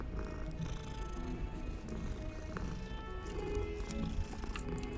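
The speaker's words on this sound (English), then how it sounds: "Now we are just petting a cat." A cat purring as it is petted in the video game Hogwarts Legacy, a soft, steady low rumble that continues without a break throughout.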